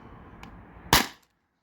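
A single sharp shot from a Beeman BP50 air gun fired at a can, loud and close, with a short trailing decay before silence.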